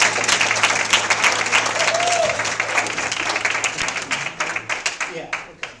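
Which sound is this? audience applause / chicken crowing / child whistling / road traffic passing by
audience applause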